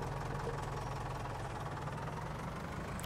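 A tractor engine in Farming Simulator 19, a steady low idling rumble with a fine knocking pulse, running alone at even volume throughout.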